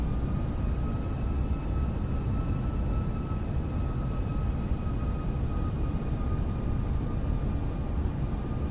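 Airbus A320 jet engines in Microsoft Flight Simulator hum as a steady, quiet broadband roar with faint tonal whines, constant throughout with no talking.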